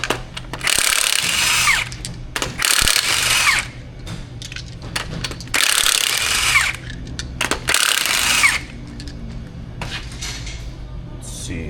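Impact or power tool on a Jeep Compass AWD in a collision-repair shop, spinning bolts out of the wheel's brake rotor in four loud, close bursts of about a second each, separated by short pauses, with faint shop clatter around them.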